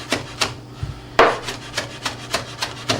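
A knife rocking through fresh herbs on a board, with soft regular chopping strokes, roughly three per second, close and fairly quiet.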